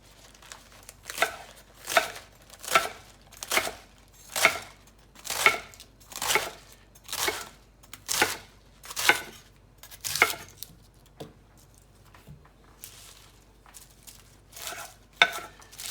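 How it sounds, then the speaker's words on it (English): A knife chops romaine hearts for a Mediterranean quinoa salad on a cutting board. About a dozen steady, close thuds fall in an even rhythm, then a few looser strikes near the end. "I'm going to now chop our greens. So we're gonna have romaine hearts,"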